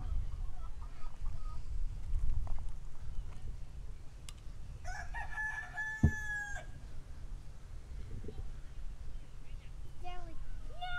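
A rooster crows on a farm in Georgetown, Texas, one full loud cock-a-doodle-doo mid-clip followed by a shorter, fainter crow, with chickens clucking and people talking under steady low background noise.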